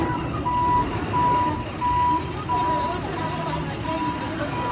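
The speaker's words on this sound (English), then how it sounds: "That big truck is turning around, the Corona truck." Reversing beeps from a large Corona beer truck turning around at a street protest in Cuernavaca, Mexico, sounding as a steady series of evenly spaced tones over crowd babble and engine rumble.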